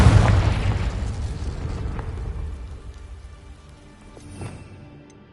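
A Confringo fire-blast spell in Hogwarts Legacy bursts loudly at the start and fades into a crackling, rain-like decay, followed by a fainter second thump near the end.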